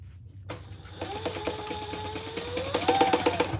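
A sewing machine runs a line of top stitching on a Mini or XL Necessity case, a steady mechanical whir with rapid needle pulses that holds throughout at moderate loudness and grows slightly busier near the end.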